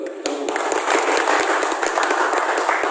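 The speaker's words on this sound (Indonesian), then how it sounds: "Tepuk tangan dulu." A crowd at a church fundraising gathering breaks into steady, dense clapping that holds at an even level for a few seconds.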